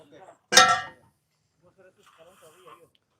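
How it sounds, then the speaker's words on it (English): Metal pipe reducers thrown into a truck make a single loud, bright clank up close, followed by quiet talking. "I'm throwing all the extra reducers and all that in my truck."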